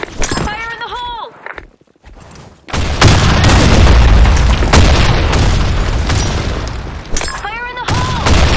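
Grenade explosions in the online shooter Blackshot set off a heavy, sustained booming roar that fills most of the clip, framed by short chirpy synthesized voice callouts before and after the blast, with gunfire-like cracks mixed in.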